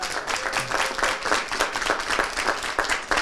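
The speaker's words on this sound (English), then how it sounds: "Round of applause for yourselves, please." Audience applause at a community event for a Peekskill youth bureau and school district partnership, a steady wash of many hands clapping throughout, fairly close and dense, with no clear talk over it.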